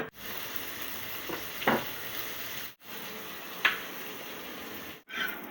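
Semiya crackles and sizzles in a pan on an electric stove, a soft steady frying hiss interrupted by short stirring scrapes and a couple of sudden brief dropouts.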